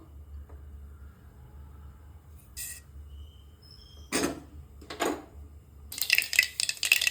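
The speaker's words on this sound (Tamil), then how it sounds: "கடுகு பொரிஞ்சிருக்கு" Mustard seeds spluttering in hot Mantra groundnut oil in a pan while making rava upma: a few isolated clatters, then a dense, close burst of sharp crackling and popping at the end.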